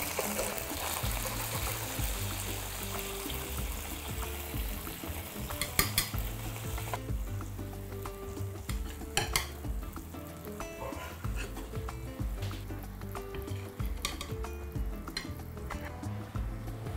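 Onion fries in a pan, a close, steady sizzle broken by stirring scrapes and a few sharper crackles.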